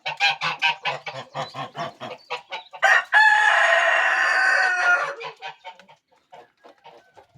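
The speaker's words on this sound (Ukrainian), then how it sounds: "Деяких людей дратують спів" A rooster crows loudly for about two seconds, rising and holding, amid a busy chorus of clucking and honking fowl that continues before and after.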